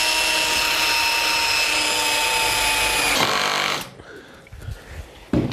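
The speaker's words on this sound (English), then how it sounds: "if you've got one of these little drivers like the GSR MX2, amazingly powerful little gadgets" A compact Bosch GSR MX2 cordless driver whirs loudly and continuously as it drives screws into a wooden chicken coop frame, then cuts off abruptly, leaving faint handling knocks.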